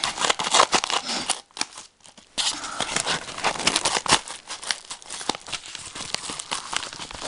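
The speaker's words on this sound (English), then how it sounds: "I'm going to take my scissors" Green apple scissors snip and crinkle through the plastic of a small kawaii package, with rustling and tearing, a short pause partway, then more close crackling cuts.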